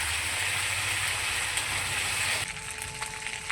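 Ground ginger, green chilli and spices fry in a pan for a vegetarian aloo dum gravy, a close, continuous sizzle that thins out partway through, with faint clinks and no talk.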